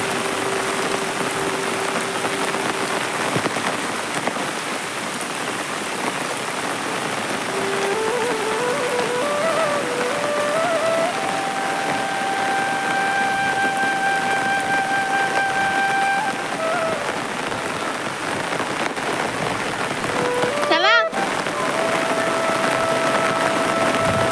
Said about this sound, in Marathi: आता आज शप्पथ भरपूर पाऊस असा पडतोय